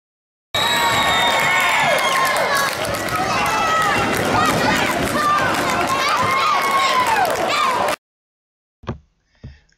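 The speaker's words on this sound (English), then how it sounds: "The crowd is going nuts, as you can see." Loud, dense crowd cheering and shouting during a timeout at an 8th grade boys CYO diocese championship basketball game, a continuous roar lasting about seven seconds before cutting off, followed by a couple of brief thumps.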